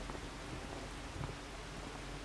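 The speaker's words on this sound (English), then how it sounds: "And it's raining." Steady rain falls across a homestead map in Farming Simulator 25, an even hiss of drops with faint pattering and no voices.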